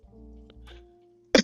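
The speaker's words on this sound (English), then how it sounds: "Apologies for coughing again." One sharp, loud cough bursting out at close range after a stretch of soft low hum and faint background sounds.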